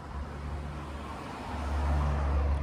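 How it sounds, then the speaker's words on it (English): A car passing on a road near a quiet outdoor spot, a low steady rumble that swells gently as the vehicle approaches, moderately loud with no talking. "There's a car passing."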